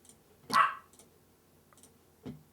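A dog barks once loudly nearby, followed by a few fainter, sparse barks and small clicks in a quiet space.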